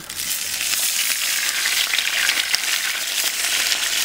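Pieces of lamb sizzle and crackle vigorously in hot oil in a new cast-iron kazan, a dense, close hiss with scattered pops and occasional stirring.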